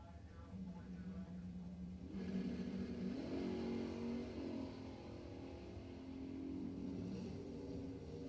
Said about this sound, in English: Larry Kahn, House Springs, 60 years old in his McIlvain dragster